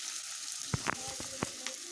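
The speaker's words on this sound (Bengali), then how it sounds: "সুন্দর করে বড়াটা ভাজা হচ্ছে।" Leaf fritters (bora) frying in a pan of hot oil, a steady close sizzle broken by a few sharp pops and light clicks of a spatula, no talking.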